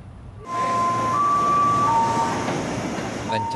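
A commuter electric train at Bogor station rumbles in close and loud with a steady hum and faint tonal whines, holding level for several seconds.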